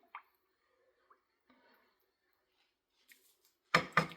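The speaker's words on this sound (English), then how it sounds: "I'm just going to give that a quick stir." A quick stir of a cloudy soap-making mixture in a container, a few faint wet squishes and soft clinks near the start, then a louder close scrape and clatter at the end.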